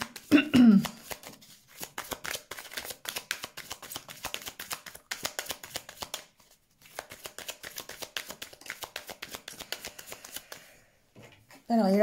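Lenormand cards are shuffled close up in a long run of rapid riffling flutters, pausing briefly partway through, with a voice speaking briefly at the start and end.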